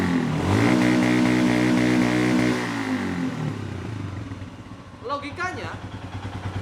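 A Royal Enfield motorcycle engine revs hard with a loud, pulsing roar that holds for a few seconds, then drops back to a lumpy, thumping idle while someone talks over it.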